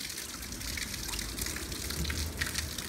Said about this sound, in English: I'll keep trying to aerate that water